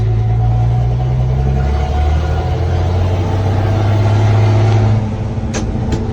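The engine of a 1972 Chevy C10 pickup truck drones steadily as it drives. A low pitch climbs with revs and then drops as the transmission shifts, all loud and close, with a couple of faint clicks near the end.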